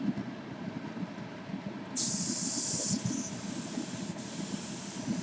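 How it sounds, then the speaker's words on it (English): A hissing blast of air blows dust off the hood of a 1970 Ford before painting, a loud burst lasting about a second, followed by a quieter trailing hiss over a faint background. "Blow this off because there's any dust on it."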